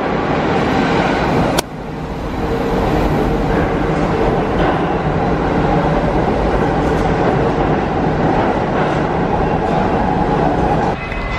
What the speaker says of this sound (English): That's the subway.